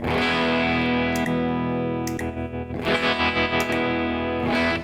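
Heavily distorted electric guitar through a NUX MG-300 MKII multi-effects processor with thick modulated effects, sustained chords shifting in tone partway through as the scene changes, loud and continuous.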